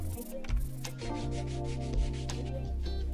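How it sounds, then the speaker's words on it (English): Pallet wood being hand-sanded with finer sandpaper, a soft, steady rubbing scrape at close range over a faint tonal background, with no speech. "I went over it again with a finer sandpaper"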